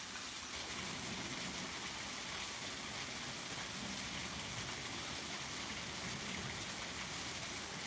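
A small waterfall rushing steadily, a constant broadband hiss of falling water close by, with no breaks and no talking.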